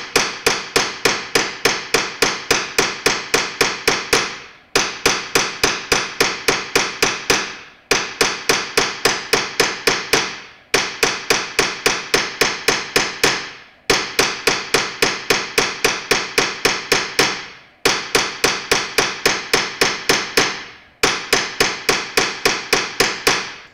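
Steady hammer blows ring out on a metal bracelet set over a Fretz forming stake, falling in quick, even runs of about fifteen strikes, each run broken by a short pause as the piece is rotated, loud and close with no talk.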